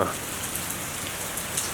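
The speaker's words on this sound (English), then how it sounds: "It is raining a lot." Steady, dense rain pours down with a constant hiss, loud and close, with no voices over it.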